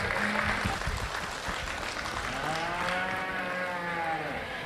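A crowd applauds young 4-H/FFA competitors at a county fair market steer show, steady clapping throughout with a cow mooing over it near the end.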